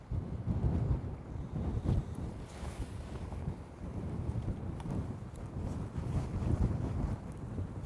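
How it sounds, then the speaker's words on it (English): Strong, gusty wind buffeting the microphone at a coarse fishing venue, a continuous low roar and rumble that rises and falls throughout, with no talking. "The wind is absolutely horrendous."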